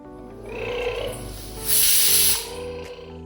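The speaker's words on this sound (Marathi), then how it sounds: "आता होऊन द्यायच्या शिट्ट्या पाणी बाहेर चांगलं जाते वाफेद्वारे" A pressure cooker on the stove releases a sharp, loud burst of escaping steam while lapsi cooks inside, rising abruptly over a steady background hiss and then easing back down.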